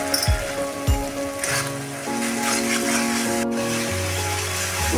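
A spice paste with turmeric and salt sizzles steadily in a pan while being sautéed for a Bengali fish curry, a constant crackling fry with a few spoon scrapes near the start.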